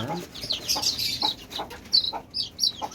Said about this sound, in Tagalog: ililipat na po natin yung ating mga sisiw